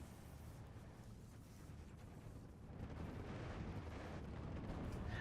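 Pak 40 anti-tank gun firing in the WWII strategy game Steel Division 2, a dense rumbling battlefield roar of distant cannon and artillery that swells louder about halfway through, with no clear separate shots.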